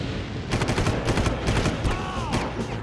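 Rapid, close gunfire in the Far Cry video game, with dense bursts of shots that overlap into a continuous fusillade lasting throughout.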